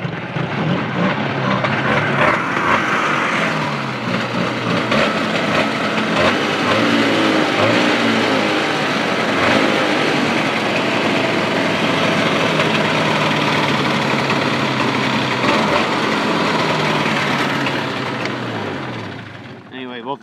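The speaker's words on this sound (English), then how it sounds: "it runs pretty decent. And the key on here, it doesn't really like to idle." A 1975 Moto-Ski Nuvik 300 snowmobile engine runs continuously, a loud, rough two-stroke drone at close range that holds steady throughout and fades slightly at the end.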